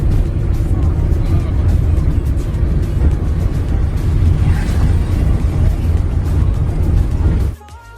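Steady low engine rumble and road noise from a car being driven, loud and continuous for about seven seconds before cutting off abruptly.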